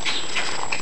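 Steady rhythmic clip-clop of a pony's hooves during riding, close and continuous over a brief moment.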